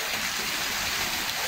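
A waterfall in the jungle zone of a park, heard as a steady, loud, unbroken rush of falling water that fills the whole moment.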